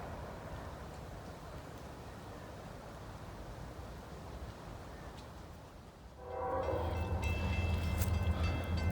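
A northbound freight train rolls past with a steady broad rumble and rattle, swelling louder and heavier partway through as the cars pass close by.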